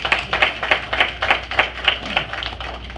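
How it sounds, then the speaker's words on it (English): Audience clapping at a church prayer breakfast, with steady, rhythmic hand claps that hold a strong beat throughout rather than scattered applause, moderately loud and without speech. "Now, y'all give Obama a big round of applause."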